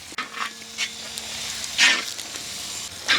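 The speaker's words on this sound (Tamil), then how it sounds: "பாருங்கள் மக்களே, வெங்காயம் நல்லா வதங்கிடுச்சிங்க" Onions sautéing in a pan with garlic and curry leaves for a Tamil village-style dry fish curry, a soft steady sizzle with a few stirring scrapes and one louder hissing burst near the middle, no talking.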